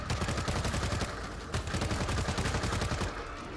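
Gunfire in the video game World War Z on PS4: dense, continuous rapid automatic bursts fill the whole stretch at high loudness, with no talking over it.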